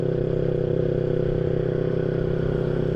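A modified motorcycle on a toll road in Palembang gives off a steady, droning engine rumble that stays loud and constant throughout.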